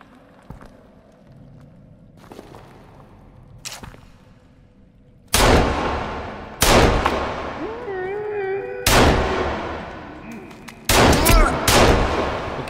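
Pistol gunfire in Sons Of The Forest during a winter session: several sharp, loud shots at irregular intervals, each a sudden broadband crack that decays slowly, preceded by quieter shuffling movement.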